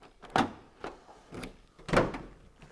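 A Renault Kangoo van's door and lock are worked by hand, giving four distinct mechanical clunks and rattles at close range, the last one the loudest.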